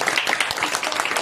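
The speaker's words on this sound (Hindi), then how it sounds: "महाराज जी के लिए थोड़ा एक बार जो है बढ़िया ताली हो जाए।" Short burst of clapping from an audience at a school Independence Day gathering in Katni, Madhya Pradesh, given in honour of a visiting spiritual guest; dense, steady and fairly loud throughout.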